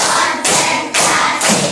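Schoolchildren in a fifth-grade classroom clap together in a counted clapping routine, a few loud, evenly spaced bursts of group clapping close by.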